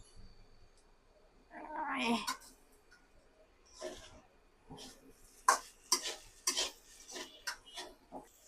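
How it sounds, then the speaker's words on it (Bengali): Noodles stirred in a pan, heard as sparse scraping and clinking utensil strokes against the cookware, with a person speaking at intervals throughout. "গাইস, আমরা এখন সুন্দর করে নাড়াচাড়া দেব, সুন্দর করে।"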